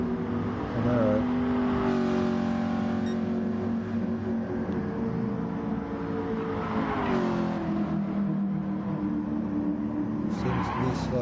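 A Chevrolet Camaro race car engine from Gran Turismo Sport drones steadily at high revs, rising and falling with gear changes and a surge of acceleration, with other cars nearby and a commentator talking over it.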